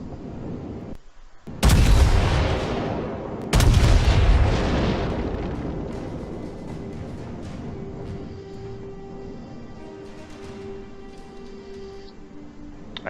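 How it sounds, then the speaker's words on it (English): Two deafening salvos from the main guns of the battleship Mikasa in World of Warships boom out a couple of seconds apart, each with a long rumbling decay that fades into steady engine and water ambience. "as you saw from my second set of shells, these things don't travel very high and went straight into land"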